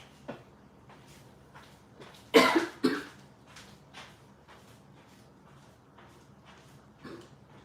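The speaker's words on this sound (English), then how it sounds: "I got a cough again, too." A person coughing indoors, a couple of sharp, loud close coughs around the middle among quieter scattered thumps and movement noises, with one softer cough near the end.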